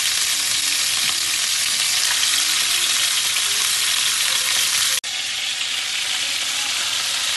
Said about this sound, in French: bien saisir. Il ne faut pas trop rapprocher les morceaux de viande.